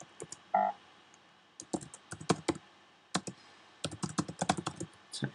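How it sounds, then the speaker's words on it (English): Fingers tapping a computer keyboard in short, close bursts of crisp key clicks with brief pauses between groups, quiet room, no talk. "Now I can just type in"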